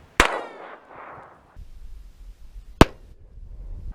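Taurus TX22 pistol firing at a steel target, two sharp separate shots about two and a half seconds apart, each followed by a ringing metallic clang, with quiet outdoor background between.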